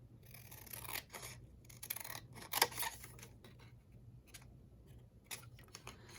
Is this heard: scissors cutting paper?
yes